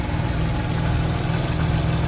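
A 1965 Jaguar MKII with its original matching-number 3.4-litre XK straight-six engine idling smoothly, a steady, even low rumble heard close and loud throughout with no speech.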